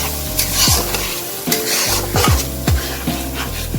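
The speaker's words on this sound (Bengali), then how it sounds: "এখন মশলাটাকে একদম কষাতে হবে খুব ভালো করে।" Spice masala with turmeric sizzles and fries in a pan while a spoon stirs and scrapes it in steady, repeated strokes, close and moderately loud, with no talking.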